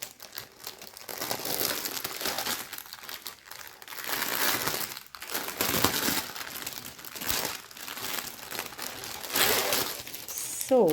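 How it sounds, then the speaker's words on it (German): Plastic packaging crinkles and rustles up close while cross-stitch kits are unboxed, in bursts of crackling handling with short pauses between, loud and continuous for several seconds with no talking. "Achtung, es raschelt wieder."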